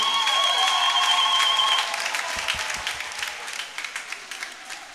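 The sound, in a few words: congregation applauding at Christmas mass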